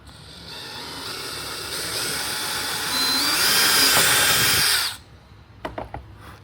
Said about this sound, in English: Then you're going to drill one of your holes.